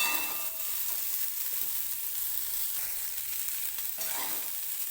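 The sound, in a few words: green chickpeas stir-frying in oil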